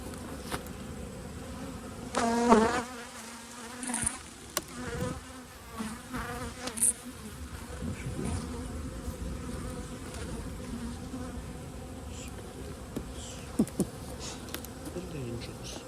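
Honeybees swarm around an open hive during a fall inspection, a steady close buzzing that fills the whole stretch, with a few knocks and handling sounds on top.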